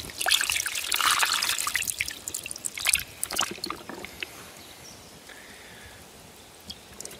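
Water pours and splashes as a bucket of mixed oranda goldfish is emptied into a pond. A lively trickling rush comes first, then fades to faint scattered drips and gentle water movement.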